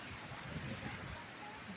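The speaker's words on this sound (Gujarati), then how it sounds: "ફૂલ વરસાદ" Heavy rain pouring steadily at a crossroads, a dense, even hiss with no pauses across the short stretch.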